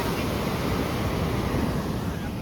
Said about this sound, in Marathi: गोव्याचा समुद्र